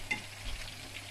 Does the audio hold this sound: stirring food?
yes